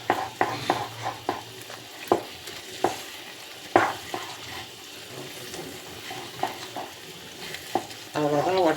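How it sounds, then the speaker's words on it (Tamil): Wheat halva, a New Year sweet, is stirred in a pan: close, irregular scraping strokes with a soft frying sizzle, ending in a denser, wetter burst of stirring. "நீங்கள் இப்படி கிளறினீங்கன்னா கொஞ்சம் கொஞ்சமாக கிளறும்போது"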